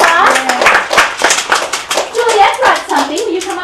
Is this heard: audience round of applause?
yes